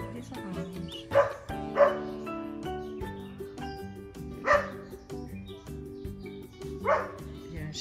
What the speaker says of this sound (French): Il y a un chien, en fait il y a 2 chiens sur ma propriété ici.